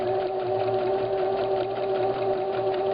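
A sewing machine runs steadily, stitching an elastic casing on a vintage wedding dress: a continuous close mechanical whir with a fast even rhythm and no talk.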